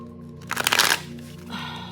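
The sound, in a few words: tarot cards being shuffled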